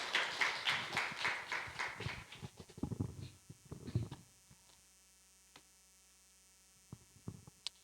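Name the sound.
congregation applauding in church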